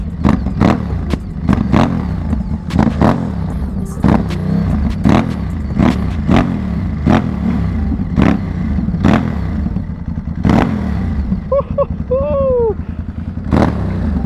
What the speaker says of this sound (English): let's get a few revs from it with this aero exhaust